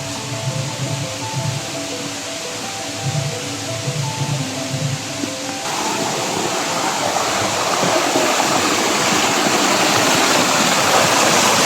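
Water from Chakratirtha waterfall rushes down through a forested hillside, a dense, continuous flowing wash that takes over halfway through after a softer tonal, music-like stretch, then stays loud and steady to the end.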